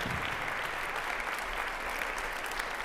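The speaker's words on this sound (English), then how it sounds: "Give them a big round of applause." A concert audience applauds steadily, a dense wash of clapping from many hands that holds at an even level throughout without a break.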